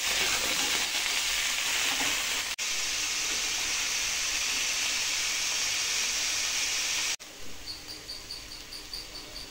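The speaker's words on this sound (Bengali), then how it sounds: "আলু আর পটলটা ভেজে নেব, ভাজা হতে হতে সিদ্ধও হয়ে যাবে।" Potatoes and pointed gourd fry in hot oil in a kadai with salt and turmeric, giving a loud, steady broadband sizzle that runs throughout, briefly dropping out twice and settling into a softer, crackling fry near the end.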